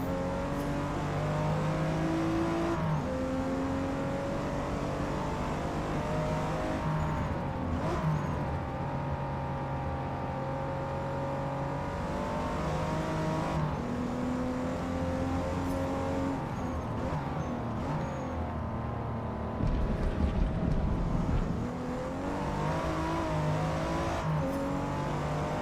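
A race car engine in Forza Motorsport, an A Class car lapping the Kahanami circuit, whines and revs continuously through repeated rising and falling gear pulls, with brief lifts and a rougher burst near the end, close and loud.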